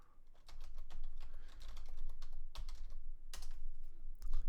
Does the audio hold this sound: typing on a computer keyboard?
yes